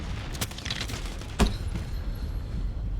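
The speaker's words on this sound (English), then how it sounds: "And I was focusing on the explosion of the cruise missile." A cruise missile explodes in a video game, a single sharp blast standing out against constant rumbling background noise, with a smaller thud earlier on.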